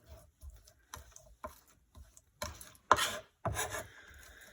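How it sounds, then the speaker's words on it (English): Roasted garlic cloves being smushed into a paste on a cutting board, making soft, wet rubbing and rasping strokes in a short run of bursts that grow louder toward the end, with no voices. "So we're just going to repeat that, smushing"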